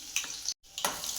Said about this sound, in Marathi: जिरं पण तडतडलं की लगेच टाकायचं